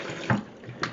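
Apples are washed in a bowl of cool water with soft sloshing and splashing, two brief louder splashes standing out close by with no talk.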